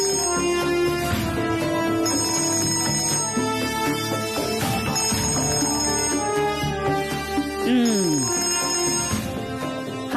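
A telephone rings continuously with a bright, repeating electronic ringtone melody, loud and steady for about ten seconds, with no talking over it.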